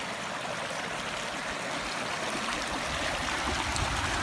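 A small creek at Little Canyon Creek Falls flows with a steady, close rushing and burbling that holds constant throughout, with no voices.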